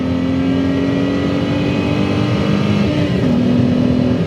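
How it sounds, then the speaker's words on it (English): A Ford Mondeo ST220 engine pulls hard under acceleration, a loud, sustained sonorous drone heard from inside the car, with a steady tone that steps up in pitch briefly near the end and no talk over it. "It's such a nice sonorous noise that just makes overtaking and accelerating down on-ramps such a joy"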